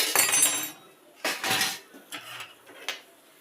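A metal spoon clinks and scrapes in a pot of tea with spices, in several separate bursts of stirring with short quiet gaps between them.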